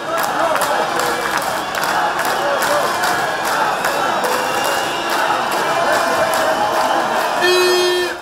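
A large crowd of football fans fills stadium stands at a match between Abkhazia and Western Armenia, a steady roar of voices and chanting with rhythmic pulses, and a horn blares near the end.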